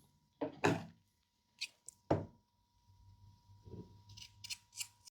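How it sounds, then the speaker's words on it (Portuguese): Scissors snipping fabric while sewing a tank top, a few sharp close cuts with pauses between them, followed by faint handling and rustling, quiet with no talking. "Vou cortar também aqui 1 centímetro antes da barra."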